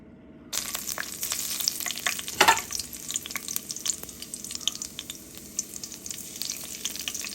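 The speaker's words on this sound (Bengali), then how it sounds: "এবার যেই জিরাটা একটু ভাজা ভাজা হয়ে যাবে" Cumin seeds sizzle and crackle in hot oil, a steady frying hiss with scattered pops and a brief louder burst early on, close by.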